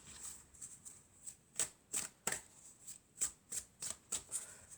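Oracle cards are shuffled by hand close up, a series of quick, crisp riffling bursts at a steady rhythm, faint and without talking.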